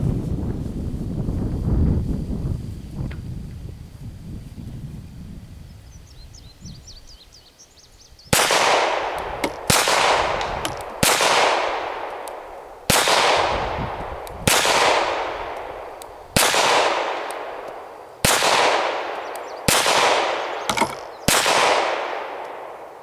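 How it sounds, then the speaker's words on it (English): A Beretta Model 100 pistol with a rusty barrel fires 20-year-old ammunition outdoors: after a stretch of wind noise, about nine loud, close shots ring out at a steady pace, each with a long echoing decay. "I'm gonna run a couple rounds through it."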